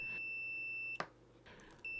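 Continuity beeper on a TIS multimeter sounds a close, steady high-pitched tone in two bursts separated by a short gap with a click.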